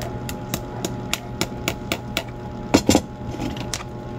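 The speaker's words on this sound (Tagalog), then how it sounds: "Tapos lalagyan natin ng tornilyo para stable siya" A screw being driven into the mount of a Taiwan hibiscus bonsai, heard as a steady series of close, sharp taps, with a brief louder clatter near the end.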